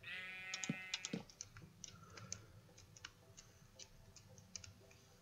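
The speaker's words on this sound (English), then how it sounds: "Sheep, no. Sheep, what the fuck? Sheep." Sheep bleating in the video game Minecraft, a couple of short bleats near the start followed by faint ticking and clicking game sounds, with no talk.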